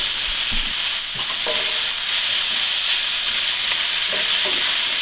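Daylily root frying over really high heat in leftover steak juices, a loud, continuous sizzle and hiss with occasional stirring scrapes in the pan.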